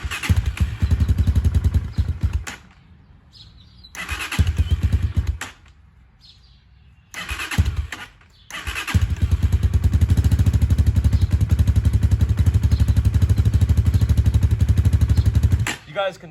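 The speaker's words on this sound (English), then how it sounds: "I'm going to start it up, keep it low RPM," A cold Honda Hawk 250 motorcycle fires up loud and close, sputters and dies twice, then catches and holds a steady low-RPM idle.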